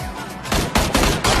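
Video game gunfire erupts in several loud, close bursts after a quieter opening, with shots coming in rapid volleys.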